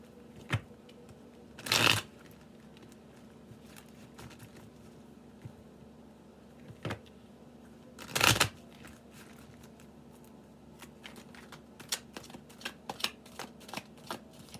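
Tarot cards riffle-shuffled in two loud bursts near 2 and 8 seconds, with quieter taps and card handling between and after, over a steady low hum in a quiet room.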